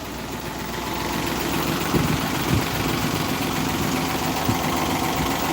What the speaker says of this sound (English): a very worn engine.